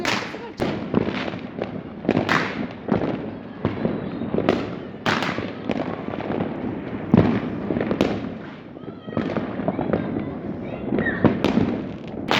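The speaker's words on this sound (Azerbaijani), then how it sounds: "Səsi var, fişənglərin səsi var." Fireworks and firecrackers burst outdoors in the final minute before New Year's midnight, a dense, continuous barrage of near and distant bangs and crackles with a murmur of voices underneath.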